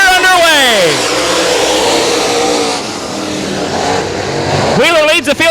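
Race cars at a Super Bowl Speedway event roar and climb through their gears together at the green flag start, loud and close, sweeping upward in pitch before one car passes hard near the end, with a commentator talking over the noise.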